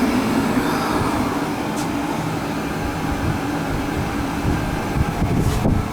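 A Riello oil burner with a new Firematic pump, nozzle and oil flow fires and runs with a steady, dense roaring rumble throughout, without talk.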